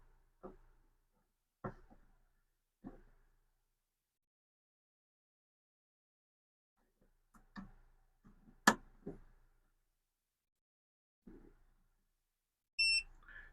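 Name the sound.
beep of Atomstack Atelier laser engraver powering on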